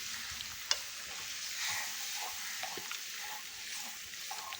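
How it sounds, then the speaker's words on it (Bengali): Jackfruit and water are stirred together in a cooking pan, a soft wet sizzle with light scraping and one sharp clink from a utensil, faint and close, no voices. "এবার জলের সাথে কাঁঠালটাকে ভালো করে মিশিয়ে দিব।"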